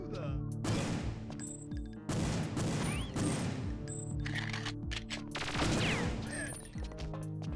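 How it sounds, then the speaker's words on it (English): Bursts of rapid gunfire from Perfect Dark crackle in several volleys with crashing impacts, while a voice talks over the shooting. "the guards don't notice all this gunfire."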